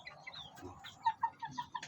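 A flat-combed chicken, a Belgian Shamo crossed with Shamo Asil, gives a short run of soft, evenly spaced clucks close by over faint background noise.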